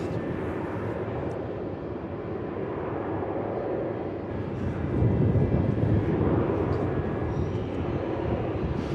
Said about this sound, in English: 737 clear for takeoff